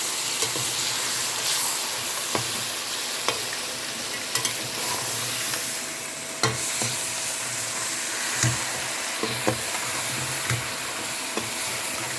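Beef and spices for yakhni pulao are stirred in a pot: a soft, steady sizzle runs throughout, broken by scattered scraping clicks of the spoon against the pot, fairly quiet and with no talking.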